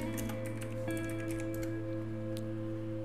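Typing on a computer keyboard while searching for software: scattered soft key clicks over a steady electronic hum.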